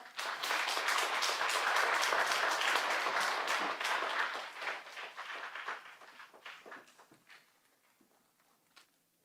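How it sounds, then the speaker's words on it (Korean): A church congregation applauds to welcome a pastor to lead a Genesis Bible teaching session. Dense, loud clapping from many hands holds for several seconds, then thins into scattered claps and fades out. "박수로 모시도록 하겠습니다"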